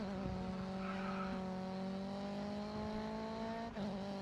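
A BMW touring car in the GRID Autosport racing game holds a steady engine drone, a sustained tonal hum with a faint tire squeal in the middle and a brief dip near the end, fairly quiet throughout.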